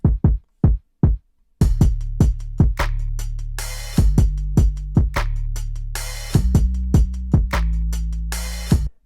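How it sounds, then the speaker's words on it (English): A short, punchy kick drum sample in a music production beat thumps repeatedly, first a few sparse solo hits, then layered under a sustained synth bed with crisp noise bursts. "Then we have this kick, which is a very short and powerful kick."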